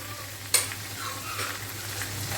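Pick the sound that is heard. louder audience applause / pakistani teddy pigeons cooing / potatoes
potatoes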